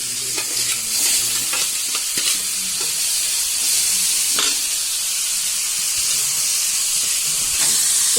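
Dried fish and green chillies fry in a pan with a loud, continuous hiss and crackle, while a spatula stirs and scrapes in irregular knocks close by; no voices.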